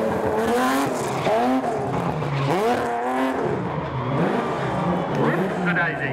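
A classic Valiant race car charges through a street sprint course, its engine revving up and down through gears with tire squeal, while a commentator talks steadily over the roar.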